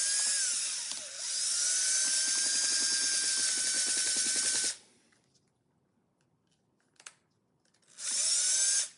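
A power drill bores a pilot hole into a plant pot in one loud, steady whine of about five seconds, then stops; after a near-silent pause with a faint knock, the drill starts again near the end.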